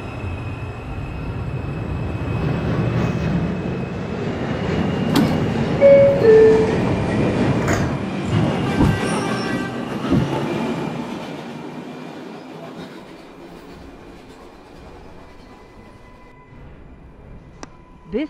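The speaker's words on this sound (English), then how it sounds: "This is a Manhattan-bound 2 train" Manhattan-bound 2 subway train in New York heard from aboard, a steady loud rumble of wheels and car body with clatter and brief squeals, fading slightly toward the end.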